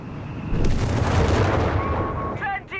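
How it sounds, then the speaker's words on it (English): A 17 pounder anti-tank gun fires in Company of Heroes 3, a heavy booming report with rumbling battle noise sustained behind it, followed by a few short electronic tones near the end. "There goes 17 pounder gun finally coming to life here"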